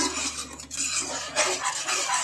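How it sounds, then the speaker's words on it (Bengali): A spoon scrapes and clinks against a pan while a tandoori chicken mixture with water and sugar is stirred, giving repeated close scraping strokes over a faint low simmer, with no talk. "এবার এটাকে একটু ভালো করে মিশিয়ে নেব।"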